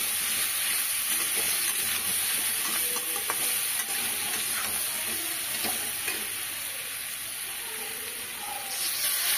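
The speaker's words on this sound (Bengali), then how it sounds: "অল্প জল দিয়ে একটু সাঁতলে নেব।" Pumpkin and shrimp with slit green chillies, salt and turmeric sizzle in a pan, a steady close hiss of frying with soft scraping strokes of stirring running through it.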